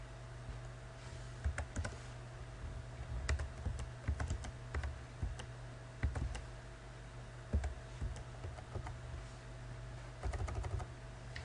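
Computer keyboard typing as figures are entered into spreadsheet cells: irregular bursts of close, crisp key clicks with brief pauses between runs, and no talking.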